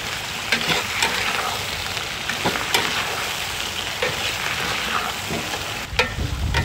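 Chicken pieces stir-fried in a wok over high heat with aromatics, a steady close sizzle of frying broken by scraping spatula clanks and tossing bursts throughout.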